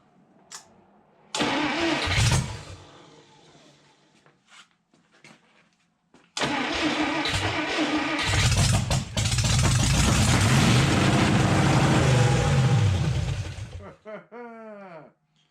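A Tri Power 241 Red Ram Hemi engine cranks and catches, runs in a loud burst, cuts out, then starts again and idles fast and strong for several seconds before shutting off.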